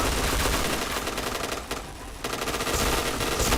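Rapid automatic gunfire from a first-person shooter game, a dense, loud burst of shots running almost continuously with a brief lull in the middle, no voices over it.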